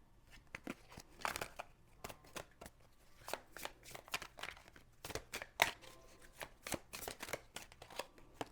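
Tarot cards being shuffled by hand, a close, quiet series of crisp riffling and slapping bursts at an irregular rhythm, with no talk over it.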